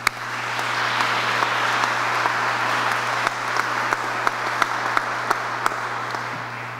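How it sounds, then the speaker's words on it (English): Steady audience applause at a booster pumping station project completion event, a sustained wash of clapping with a few sharp individual claps standing out over a low constant hum. "So let's give them a round of applause."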